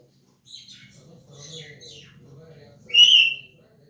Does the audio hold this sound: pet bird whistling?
yes